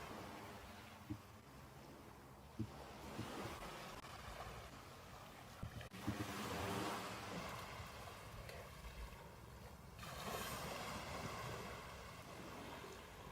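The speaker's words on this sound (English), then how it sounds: "We're gonna have a little bit of ocean sounds in the background." Ocean waves wash softly in the background, a low, steady rush with gentle swells and occasional faint knocks, with no voices.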